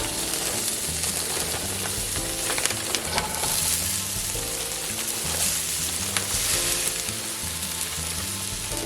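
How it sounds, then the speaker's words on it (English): Day-old white rice frying in hot oil in a pan, a loud, steady, dense sizzle lasting throughout with faint stirring clatter, close up and without speech. "Do you hear that fry?"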